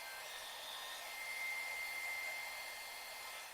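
A blow dryer pushes a steady, even rush of air across a faux stone canvas coated in paint, holding at constant strength throughout with no voices.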